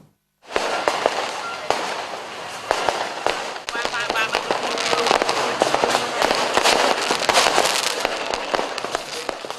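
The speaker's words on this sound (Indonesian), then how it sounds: "Inilah pesta kembang api perayaan malam tahun baru 2019" Fireworks burst continuously over a New Year's Eve 2019 celebration on a public square in Denpasar, Bali, with dense overlapping crackles and loud booms running throughout and crowd voices mixed in.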